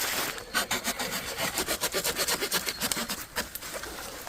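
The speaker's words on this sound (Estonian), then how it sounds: "Või veel teised otsad ära saagida." A handsaw cuts through wood in quick, regular back-and-forth strokes, each rasping pass clearly audible and close, about a dozen strokes in a steady rhythm.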